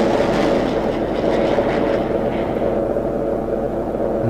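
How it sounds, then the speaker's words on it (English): F-14 swing-wing fighter jets in the flight game F22 Total Air War: a loud, continuous roar of engine noise, steady and close, with no talking over it. "I believe these are F-14s."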